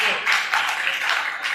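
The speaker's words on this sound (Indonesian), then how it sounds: "Tepuk tangan untuk Nurul dan Bu Aditya." An audience gives a short burst of applause after a presentation, a brief steady wash of clapping of moderate loudness.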